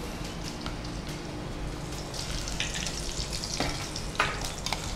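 Steady crackling sizzle of cumin and dried red chillies frying in hot oil as a tempering, continuous and close, with a few sharper pops near the end and no voices.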